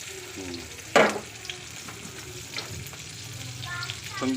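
Dried tuyo fish frying in a little oil: a steady, close sizzle, with one loud metallic clatter near the start and lighter scraping and stirring noises after it.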